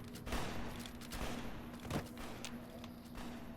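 Gunfire in a video game crackles in scattered rapid bursts, fairly close, over a constant steady hum.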